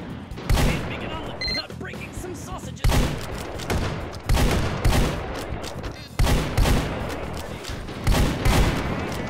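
Gunfire in the VR shooter H3VR tears into a turret in five loud, sustained bursts spaced a second or two apart, each trailing off into rattling echoes, with a voice talking between them.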